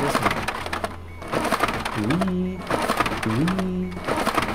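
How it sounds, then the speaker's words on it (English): A printer runs through a repeating mechanical cycle: dull clacks, then a rising squeak, heard twice in about four seconds against a steady hum. "So this printer makes something like clock tweet, clock tweet"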